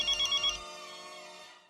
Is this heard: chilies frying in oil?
no